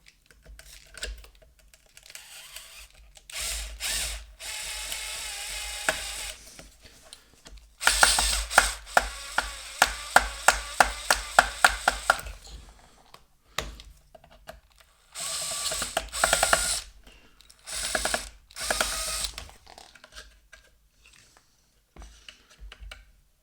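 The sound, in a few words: unscrewing a screw on a Bang & Olufsen Beolab 14 subwoofer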